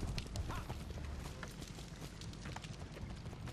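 Rapid horse hoofbeats in the video game Assassin's Creed 3 clip-clop in a steady galloping rhythm, fairly quiet, with no talking over them.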